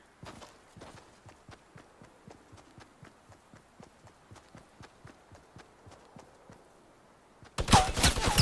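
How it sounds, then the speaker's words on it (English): Minigun fire in Fortnite Battle Royale: steady, soft footstep-like taps pace along for several seconds before a sudden, loud, dense burst of rapid fire erupts at the very end. "he just started shooting at me with the minigun, and he wouldn't stop shooting at me"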